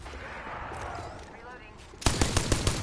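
Gunfire in Apex Legends, a rapid automatic burst of about seven sharp close shots arriving after a stretch of muffled game ambience and talk.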